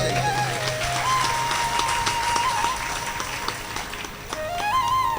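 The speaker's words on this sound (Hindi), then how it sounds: "उनके लिए ताली बजाइए।" An audience at a Bhagwat Katha religious gathering claps together to honour a donation, a steady burst of applause lasting a few seconds that eases slightly near the end, with a faint tonal musical backdrop.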